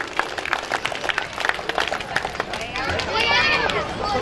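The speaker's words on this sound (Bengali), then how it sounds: "আসুন একটু করতালি দিয়ে তাকে অভিনন্দিত করি" Audience applause at a Heritage School event welcomes a guest, the managing director of Datasoft: a dense, steady wash of many hands clapping at moderate distance, mixed with crowd hubbub that swells louder toward the end.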